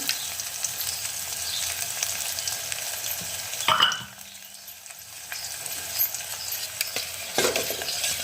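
Spices crackle and sizzle in hot oil in a pan while Maharashtrian dahi kadhi is made, a steady hiss broken by a sharper burst of spattering near the middle and another toward the end, with no talk over it.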